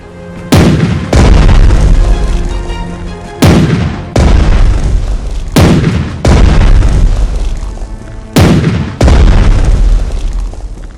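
Naval artillery in Strategic Mind: The Pacific, Coral Sea battle: repeated loud heavy booms of gunfire and explosions, each a sharp blast followed by a long rumbling roar, coming in pairs and clusters, very close and dominant.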